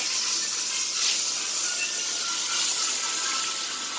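Hot water pours steadily into a cooking pot of curried chicken necks, a continuous close hissing rush that holds evenly throughout with no talk.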